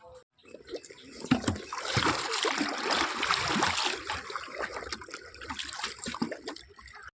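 Ganges river water is scooped and collected on a calm, cloudy day, giving soft close splashing and trickling with gentle gurgles that rise and fall, faint overall, with someone speaking briefly.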